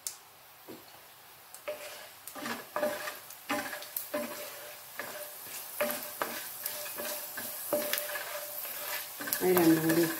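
Urad dal and chana dal crackle and sizzle in hot oil with mustard seeds, a dense run of small pops and spits with occasional stirring clicks, close and steady throughout.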